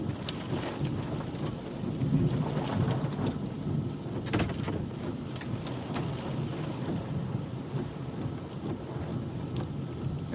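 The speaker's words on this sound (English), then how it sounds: "Oh, all right, now the hail's hitting from the right-hand side." Violent desert thunderstorm with hail and heavy rain in Scottsdale, Arizona, under 55–75 mph winds: dense steady pelting and roaring downpour, with a rumble of thunder and sharp hail strikes partway through.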